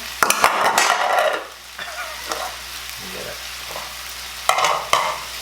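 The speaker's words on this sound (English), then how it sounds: "I'm going to put in the tomatoes that we have here" Tomatoes are added to a hot pan of spinach, with a spoon clattering against the pan as they are stirred. A steady sizzle and frying crackle runs between the scraping strokes.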